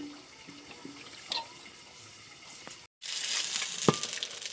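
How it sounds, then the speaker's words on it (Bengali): Aar fish frying in hot oil sizzle steadily at close range; after a brief break the crackle returns louder and busier, with a sharp pop or two. "মাছগুলো সব ভাজা হয়ে গেছে"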